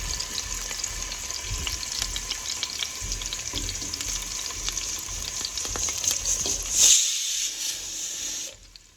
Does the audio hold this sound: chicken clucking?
no